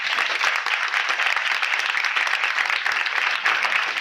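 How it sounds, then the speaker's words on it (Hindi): A church congregation in Pakistan claps during a sermon, a steady wash of many hands at moderate volume, continuous and fairly even throughout. "तालियां बजाएं"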